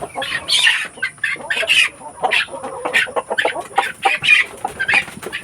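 Heritage breeder chickens on a free-range farm cluck and squawk in overlapping bursts, close and fairly loud, with no talking.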